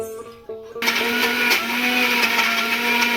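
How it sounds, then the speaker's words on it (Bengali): An electric mixer grinder blends raw chicken with garlic-ginger paste and salt into a paste, starting abruptly after a short pause and running as a loud, steady high whir to the end. "মিক্সিটা আমি পেস্ট করে নেবো।"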